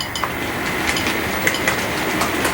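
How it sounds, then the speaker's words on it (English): A model train of about ten cars runs along a mainline layout, giving a steady, moderately loud rolling rumble with light, irregular rail clicks throughout. "let's get this train going"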